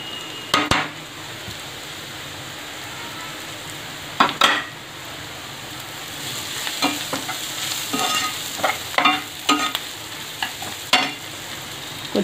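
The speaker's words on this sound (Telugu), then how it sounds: "ఇదండి ఒక 2 మినిట్స్ ఇలా కలుపుకొని ఇదండి పౌడర్ కూడా వేసేస్తున్నాను" Masala powder is stirred into frying prawn curry, a constant low sizzle under repeated scraping and clanking of a spoon against the pan in irregular strokes.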